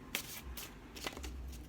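Tarot cards are shuffled by hand in quiet, soft riffling bursts with brief pauses between them, close and faint, with no voices over them.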